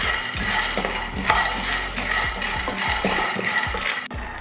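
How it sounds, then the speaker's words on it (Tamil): Peanuts dry roasting in a pan are stirred continuously, making loud, close rattling and scraping in a steady back-and-forth rhythm, with no talking. "இப்போ வந்து வேர்க்கடலையை வறுத்துக்கலாம்."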